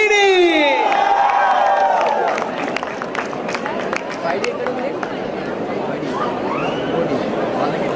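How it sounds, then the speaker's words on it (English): Audience at a Comic Con panel session cheers, whoops and claps in a loud, sustained crowd roar that starts with high shouts and settles into steady applause with scattered voices. "Big round of applause for Abhijit Kini!"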